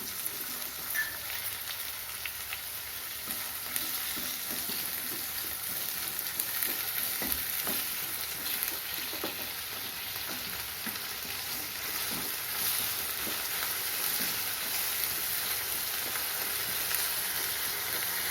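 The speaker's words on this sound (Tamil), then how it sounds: "உப்பு சேர்த்து வதக்கணும். கருவேப்பிலை போட்டுக்கிறேன்." Onions, tomato and curry leaves sauté in oil for brinjal kuzhambu, a steady close hiss of frying throughout with faint crackles and occasional stirring taps, no voices.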